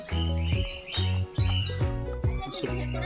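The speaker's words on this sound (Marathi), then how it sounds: "टर्की पक्षी आहे" A turkey calling at a zoo gives a run of loud, nearby, choppy calls in quick succession, each a short burst with a few brief pauses between them.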